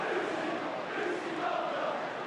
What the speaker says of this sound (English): the crowd are calling for Brucey Grobbelaar, who's a great Kop favourite